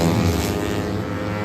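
Loud, high-revving 150 cc racing motorcycle engines roar steadily with a buzzing, droning exhaust note, at a regional open road race on a former airport circuit in Rantetayo, South Sulawesi.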